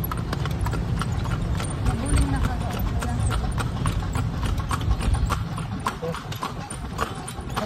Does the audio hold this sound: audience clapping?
no